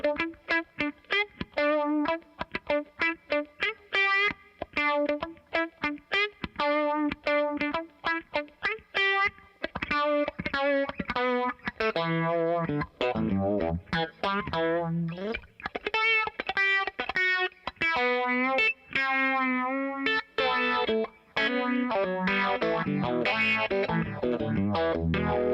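Electric guitar runs through a Keeley OAXA pedal with the compression turned up, playing choppy single-note funk lines in quick staccato bursts, later shifting to smoother sustained phrases with a wavering modulated shimmer, and no voices.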